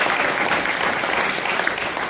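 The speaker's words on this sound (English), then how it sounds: "you should clap for that" A lecture audience bursts into loud, sustained applause, a dense wash of many hands clapping at once that fills the whole moment.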